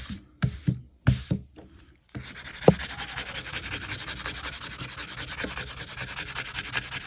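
Burnt torch paste is scraped off a wood-burned piece with a steady, close, gritty rasping that continues for several seconds, after a few sharp knocks and brief scrapes at the start.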